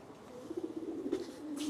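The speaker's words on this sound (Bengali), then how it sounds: "কবুতর কেমনে বেরোয়ার জন্য পাগল হয়ে গেছে দেখছেন" Racing pigeons, a male and female pair, coo softly in low, throaty pulses, faint and close-by over quiet background hiss.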